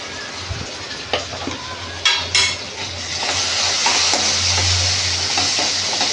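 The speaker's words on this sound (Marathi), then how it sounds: "वाल असल्यामुळे त्याच्यात थोडं मी हिंग टाकते." Asafoetida (hing) dropped into a hot pan for a Veg Thali dish, bringing a few stirring knocks and then a strong, steady sizzle that swells and holds, loud and close.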